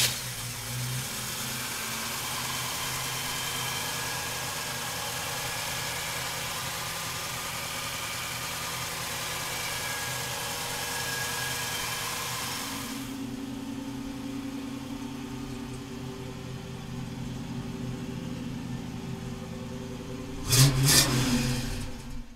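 A 1966 Chevrolet Chevelle big-block V8 runs at a steady, rough idle, then the tone shifts lower partway through, followed by a short, louder burst of revving near the end, with no talk.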